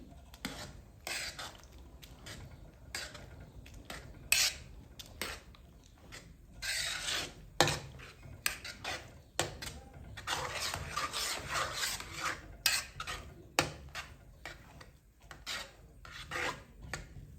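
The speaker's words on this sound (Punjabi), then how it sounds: "ਗਾਜਰਾਂ ਨੂੰ ਦੁੱਧ ਵਿੱਚ ਚੰਗੀ ਤਰ੍ਹਾਂ ਮਿਕਸ ਕਰ ਦੇਵਾਂਗੇ" A spoon rasps and scrapes repeatedly against the bottom of a pot in uneven strokes while stirring carrots into milk, fairly close, with no voices.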